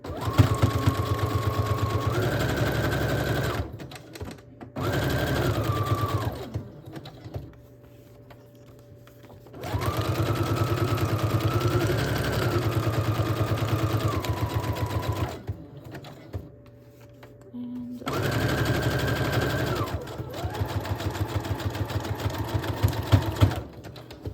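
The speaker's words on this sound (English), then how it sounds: "I'm gonna sew this pocket on." A sewing machine zigzag-stitches a pocket onto a journal signature in three long runs, each a loud, close, steady mechanical hum with rapid needle chatter, separated by brief pauses of near silence.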